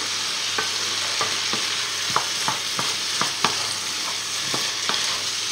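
Squid frying in a pan hisses steadily while a spoon stirs it, knocking the pan in about a dozen light, fairly regular taps over the sizzle.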